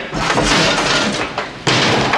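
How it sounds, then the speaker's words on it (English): Glass smashes and breaks in a loud, dense crash, followed by a second burst of shattering after a brief dip, in a scene from The Thing (1982). "He smashed up some of the chopper pretty good."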